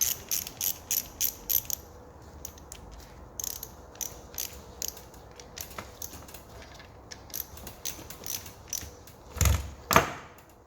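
Rapid repeated clicking of a ratchet spanner tightening a part on an Alfa GTV during restoration, heard close in bursts with a couple of louder metallic clanks near the end.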